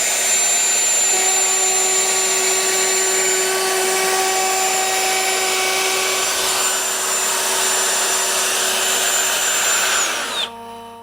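A Festool MFK 700 palm trim router cuts a roundover edge, its close, loud whine holding steady for about ten seconds, shifting slightly in pitch as it bites, then spinning down at the end.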